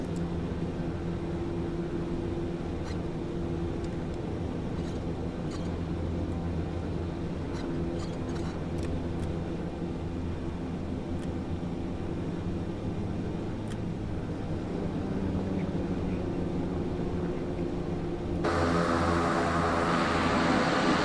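Steady turboprop drone from a Beechcraft Starship back-taxiing on the runway in Microsoft Flight Simulator, a continuous engine hum and whine that holds level throughout and brightens slightly near the end.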